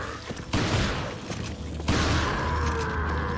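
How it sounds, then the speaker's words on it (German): Gunfire from the video game Resident Evil 4 on Nintendo Switch: loud, dense shots with sharp bursts standing out over a constant roaring game background, no voices. "Bam, 3 gezielte Schüsse und er ist tot."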